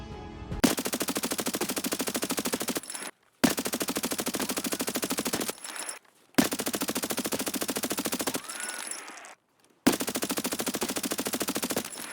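Long bursts of rapid automatic gunfire from an AS VAL rifle in the video game Escape from Tarkov, four sustained volleys separated by short pauses, loud and close, with a faint mechanical sound between bursts.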